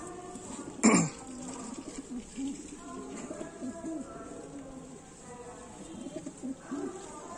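Pigeons coo softly and intermittently while being handled at close range, with a sharp cough-like burst near the start and low murmuring voices in the background.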